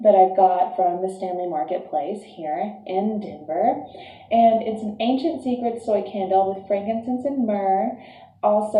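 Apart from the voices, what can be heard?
No distinct noise like a dog, phone or traffic.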